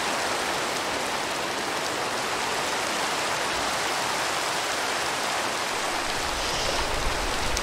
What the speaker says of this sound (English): Can't see anything because of the stupid rain.